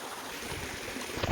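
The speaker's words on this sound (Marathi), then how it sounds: "पाणी कसं एकदम शांततेने जाते खाली" Forest stream water flows gently and steadily, a soft continuous rushing murmur, quiet and close, with a slight swell at the end.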